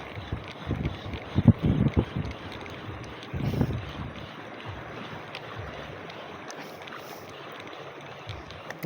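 Wind buffets a small fishing boat on open water, a steady low rumble with a few louder gusty thumps early on, close to the microphone with no talking.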